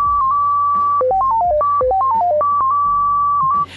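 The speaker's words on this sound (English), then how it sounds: "Or this one, the Euro signal?" Euro signal pager tone: a loud, clean electronic beep sequence, a long steady note followed by rapid stepped tones running up and down in two quick runs, then the steady note again, alone with no talk.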